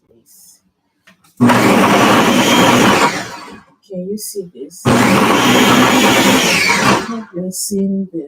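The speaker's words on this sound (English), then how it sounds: "I'm going to blend. Sorry for the noise" An electric kitchen blender blends meat pie filling in two loud, sustained bursts of whirring roar, each lasting a few seconds, with a person talking briefly before and between the runs.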